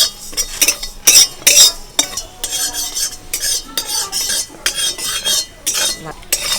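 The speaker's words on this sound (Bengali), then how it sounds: "এখন আমি এই জিরেটা ভেজে নেব একটু শুকনো করে।" Cumin seeds dry roasting in a hot oil-free wok, stirred briskly with a metal spatula, loud close scraping and clinking strokes in quick bursts with a faint crackle, no voices.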